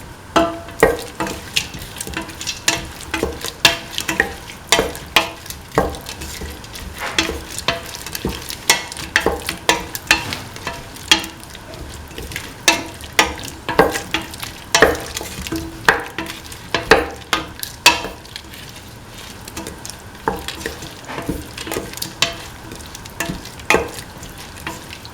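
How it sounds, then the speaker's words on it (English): A spoon stirs lentils into a bell pepper and coconut milk mixture in a pan, irregular scraping and clacking strokes over a soft, steady sizzle, close and without voices. "Mix the lentil with the rest of the mixture."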